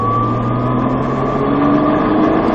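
Car on a race track accelerating, its engine a steady, rising hum at moderate loudness with no break throughout.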